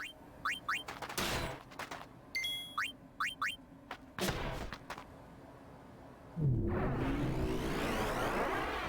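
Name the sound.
Nemesis ethereal cannon attack, Final Fantasy X video game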